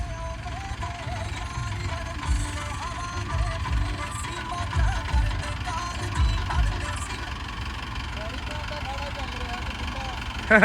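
A tractor engine runs steadily in second high gear pulling a laser land leveller in a field, a continuous low rumble with mechanical rattling throughout, heard alone at moderate loudness.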